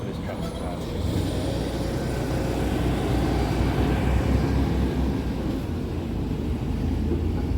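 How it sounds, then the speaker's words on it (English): A truck passing outdoors, heard as a broad, steady low rumble that swells gently toward the middle and then eases off, with no talking over it. "Let's wait for this truck to pass."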